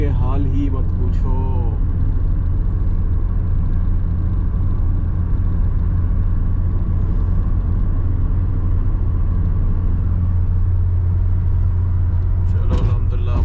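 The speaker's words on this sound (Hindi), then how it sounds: "यहाँ पे तो भाई ट्रैफिक इतनी है कि हाल ही मत पूछो" Steady low engine rumble and road noise fill the inside of a car crawling through heavy traffic in Saudi Arabia during rain, constant and loud throughout, with someone speaking at the start and end.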